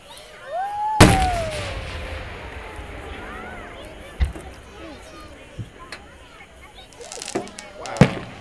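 Several firework bursts pop and boom at irregular intervals at a Fourth of July display, one loud crack early, with crackling and whistling and people talking and exclaiming in between.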